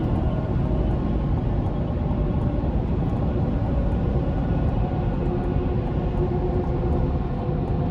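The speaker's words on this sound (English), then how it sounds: "road noise isn't bad, and the wind noise wasn't overly intrusive" Steady road and wind noise inside a 2024 GMC Canyon AT4X pickup with a 2.7 TurboMax engine, heard as a continuous low broadband rumble at moderate level, with no talking.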